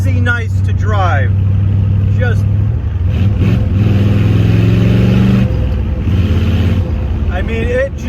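Custom 1968 Corvette engine rumbling during a road test drive, a deep steady drone with rising and falling revs, close and loud, under someone talking throughout.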